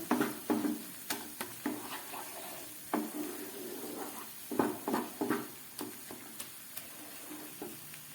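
Ground spice masala for an egg korma sizzles in a pan while a spatula stirs it, giving irregular close scraping knocks and clinks over a soft, steady frying hiss, with no talking.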